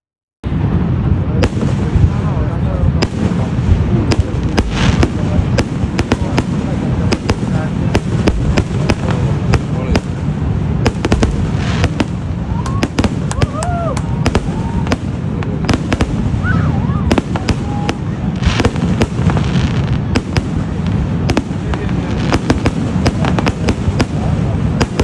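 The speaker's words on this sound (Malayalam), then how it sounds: "ഇനി നമുക്ക് നമുക്ക് ഫയർ വർക്ക്സ് കാണാനായിട്ട് നയഗ്ര ഫോൾസിലൊക്കെ തിരിച്ചു പോകാം." Fireworks go off at Niagara Falls in a rapid, continuous barrage of booming bursts and crackles, loud and close. A crowd murmurs underneath.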